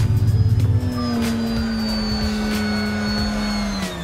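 An FMS Super Cub 1300mm RC plane hums with a steady electric-motor whine while doing a quick touch-and-go landing, its pitch sliding slightly as it passes, fairly close and loud with no talk.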